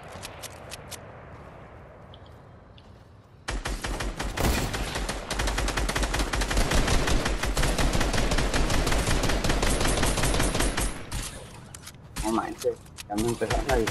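Rapid bursts of gunfire in Fortnite, a quiet stretch then a long dense volley of close, loud shots, with a few scattered shots near the end under excited voices.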